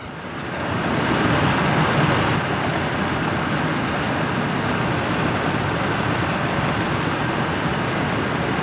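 A steel-laden freight train in the Soviet Republic video game, a loud steady rumbling roll that swells in over the first second and then holds evenly throughout.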